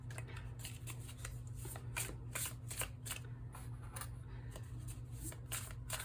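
Tarot cards being shuffled by hand, close and fairly quiet, a run of rapid papery riffling slaps repeating in irregular bursts over low background hum.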